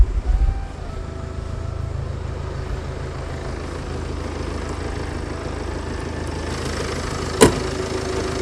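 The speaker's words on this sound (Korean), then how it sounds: "전형적인 그냥 경유차 경유 SUV 그 소리로 보시면 됩니다." A Land Rover Discovery diesel SUV engine idling steadily with a low, even rumble and one sharp click near the end.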